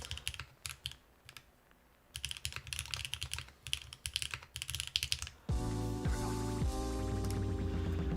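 Typing on a Sat75x mechanical keyboard, heard as close, crisp key clacks in uneven bursts with short pauses between them. The typing then gives way to a steady loud hum with a bright, tonal layer over it.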